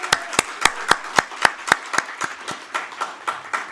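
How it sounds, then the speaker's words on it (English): Rhythmic, evenly spaced claps at a book launch event, sharp and fairly close, a steady beat of about four per second that softens slightly toward the end. "Can we give Mr. Morris Alfonso, a big round of applause, please?"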